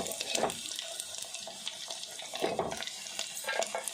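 Dried fish frying in oil in a pan, a steady crackling sizzle with louder bursts every couple of seconds as the pieces are moved, close and without speech.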